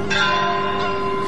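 A church bell rings steadily in a sustained, resonant peal, its tone sounding on for over a second, close and fairly loud with no talk over it.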